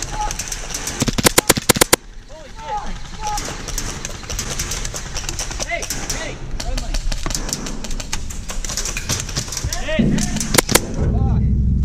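Airsoft gunfire from an SSP1 pistol and a full-auto Glock during an outdoor game: sharp bursts of rapid snapping shots, loudest around the first two seconds and again near the end, with voices and bird calls in between.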